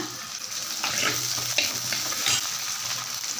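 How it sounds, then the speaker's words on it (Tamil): Shallots sizzle steadily in hot oil for a lentil dumpling curry, a soft continuous crackle with occasional stirring scrapes, close and moderately loud. "எண்ணெய் சூடாக இருந்ததுனால இப்போ இதில் நம்ம சின்ன வெங்காயம் நறுக்கி வச்சுருக்கேன் அதை போடுறேன்"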